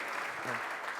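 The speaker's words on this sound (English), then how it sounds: "A round of applause." An audience at a panel discussion in Coimbra gives a brief burst of applause: a full, even wash of clapping from many hands.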